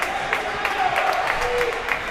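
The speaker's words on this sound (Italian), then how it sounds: "arrivano gli applausi dalla panchina della Capitolina" Applause from the Capitolina bench at a futsal match, scattered claps from a few people heard over the hum of the indoor hall, with a voice talking over it.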